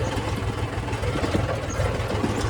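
A tractor engine runs steadily at a farm, giving a continuous low, throbbing idle rumble with a faint mechanical rattle, fairly close and with no voices over it.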